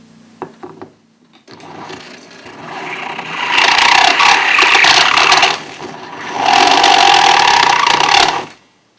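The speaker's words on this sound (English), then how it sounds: "done about as much as it's safe to do with the burr, this big heavy burr" Heavy rotary burr grinding a sculpted skull, a harsh high whirring rasp in two long sustained bursts, preceded by quieter handling clatter and softer grinding, loud and close with no talk.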